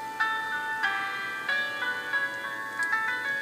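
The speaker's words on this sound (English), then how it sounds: "we have this song playing right now" Music with bright, tonal melodic notes plays from a phone at half volume, moderately loud and steady over about three and a half seconds, with no one talking.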